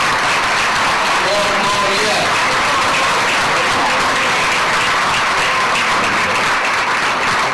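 A large audience bursts into loud, sustained applause, welcoming India at a formal gathering with Prime Minister Narendra Modi; the dense clapping fills the room evenly from start to finish.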